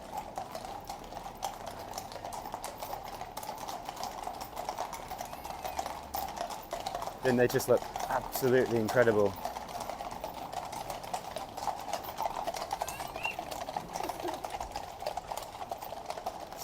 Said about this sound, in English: catching a glimpse of the horses riding down the central streets of London